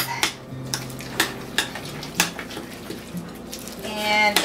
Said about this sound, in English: we're just going to mix it all together with the vegetable soup mix